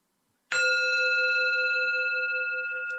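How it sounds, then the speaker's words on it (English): A single clear bell or singing bowl is struck once during a guided meditation, ringing out alone with a bright, sustained tone that slowly fades over a few seconds. "in a few moments, you will hear a bell ringing."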